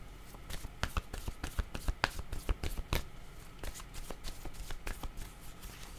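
Playing cards are riffled and flicked close up in a quick run of crisp snapping clicks, some louder than others, fairly quiet with no talking.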